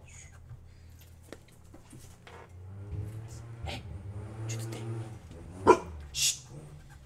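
A dog barking indoors near a workbench during console repair. A few short barks and whimpers come against a low rumbling hum, close and moderately loud, with one sharper bark toward the end.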